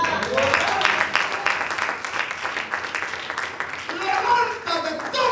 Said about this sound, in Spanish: Denle un aplauso a ese